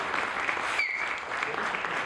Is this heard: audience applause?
yes